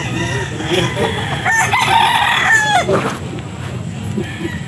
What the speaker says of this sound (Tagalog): Ito pa yung mga manok niya.